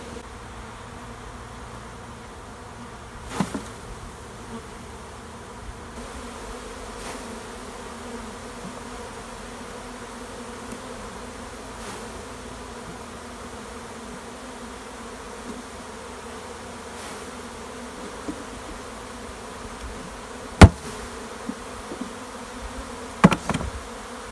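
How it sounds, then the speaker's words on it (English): A steady, dense hum of many honey bees buzzing continuously as they are shaken from a frame, with a few sharp knocks and thumps scattered through it. "now we can start shaking bees"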